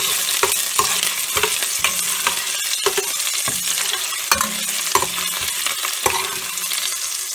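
Onions fry lightly in a Dutch oven with a constant bright sizzle, while a utensil stirs them in regular scraping strokes with occasional soft knocks against the pot.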